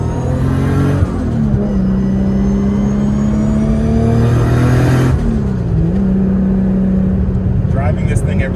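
Fully built Nissan R32 GTR with an RB26 engine and straight-cut gears revs repeatedly with a steady turbo whine, close and loud throughout, the pitch dipping and climbing between throttle blips.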